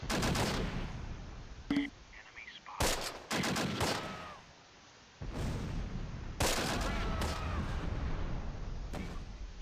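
Artillery barrage in the WWII strategy game Close Combat: Last Stand Arnhem, with loud bursts of gunfire and booming shell impacts that come in uneven clusters, plus sustained rumbling in between.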